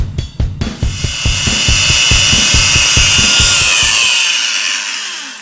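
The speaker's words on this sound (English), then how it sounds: "That is 7 diamond polishing pads on a piece of coral that I found out in the desert" A diamond polishing pad on a power tool works a piece of fossilized desert coral: a few rhythmic knocks as it starts, then a loud, steady, close whirring grind that winds down and stops near the end.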